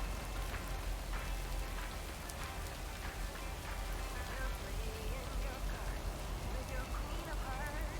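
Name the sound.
rain falling in video game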